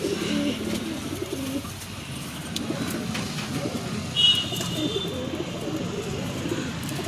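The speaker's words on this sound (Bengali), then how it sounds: "দেখছেন পায়রাগুলো কত সুন্দর, সব" Pigeons coo in soft, low repeated calls close by, over a light background hum with a brief brighter chirp partway through and no speech.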